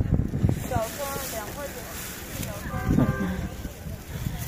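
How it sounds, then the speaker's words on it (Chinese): Strong wind buffets the microphone outdoors during a cycling trip home, a steady low rumble lasting throughout while a person talks over it. "这大风太大"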